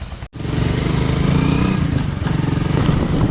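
A group of motorcycles sets off on a ride along the sea after Cyclone Dana. A loud, close engine rumble runs continuously, apart from a brief dropout near the start.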